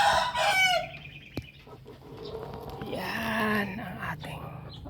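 Rhode Island hens cluck and crow in their coop, several bursts of rising calls near the mic, heard alongside a soft voice.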